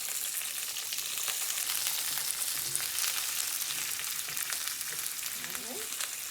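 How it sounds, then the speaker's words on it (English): Onions and peppers sizzle and crackle loudly in a hot pan, a steady frying hiss with small pops and a brief stir near the end. "drop my onions and my peppers into the pan. You should immediately hear a sizzle."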